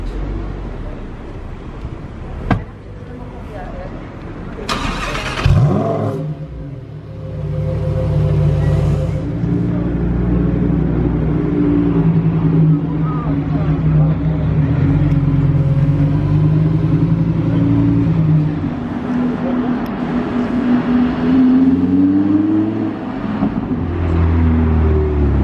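A sports car engine cranks and fires up in Monaco after a short mechanical click, then settles into a loud, deep, steady idle rumble that holds for the rest of the clip, with a slight rise in revs near the end.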